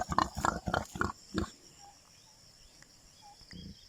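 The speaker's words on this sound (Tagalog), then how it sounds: "Eto na yung dalawang uh, baboy na litsunin." A pig of about 40 kilos, one of two meant for roasting, gives a run of rhythmic grunts close by, then falls quiet with faint bird chirps before one more grunt at the end.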